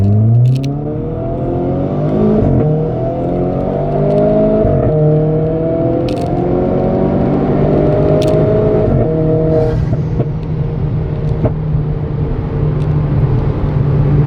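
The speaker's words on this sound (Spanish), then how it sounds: "Ahora tan solo lo único que tenemos que hacer es acelerar a fondo y cuando soltemos saldrá el coche disparado" A Renault Clio RS Trophy on launch control holds at high revs, then its engine climbs hard through rising revs for several seconds, loud and close, before easing into a steadier rumble.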